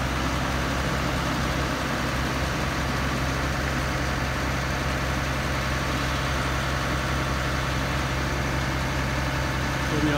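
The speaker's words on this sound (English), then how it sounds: "A light tractor." A light New Holland tractor engine runs steadily nearby, a loud continuous low drone and rumble with no change in pace throughout.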